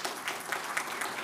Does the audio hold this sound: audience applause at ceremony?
yes